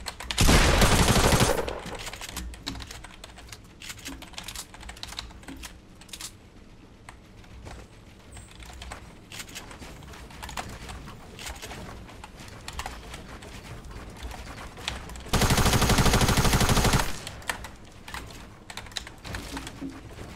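Gunfire in Fortnite: dense bursts of rapid shots at the start and near the end, loud and harsh, with constant rapid keyboard clatter running throughout and no talking.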